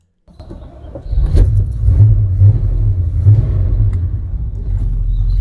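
A Holden Sandman's 4.2 litre V8 engine starts and settles into a deep, steady rumble with a couple of short throttle blips, close and loud.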